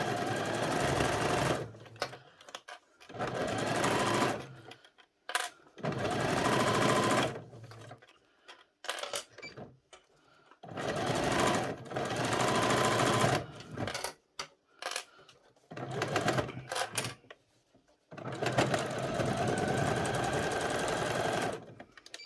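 Sewing machine running in repeated bursts as fabric for a doll's lab coat is stitched edge to edge along curves and over opened seams, several long runs separated by short pauses, close and steady.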